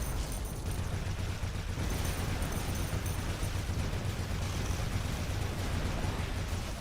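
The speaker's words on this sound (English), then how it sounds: "Okay, so there's a mortar. It's coming from the top." Mortar fire in a video game battle: a dense, continuous barrage of booming blasts and rumbling explosions that stays loud throughout.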